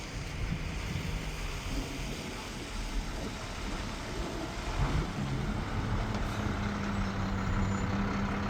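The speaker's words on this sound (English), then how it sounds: "Sounds like a garbage truck." A garbage truck rumbles and revs close by in a steady, broadband roar that builds slightly toward the end, with no voices over it.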